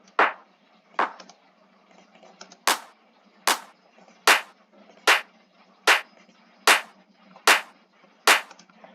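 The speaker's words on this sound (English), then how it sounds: "This clap consists of 2 layers" A layered clap sample from a hard bass track hits about eleven times in a steady rhythm, each a sharp, bright, snappy crack with a short tail, alone and upfront.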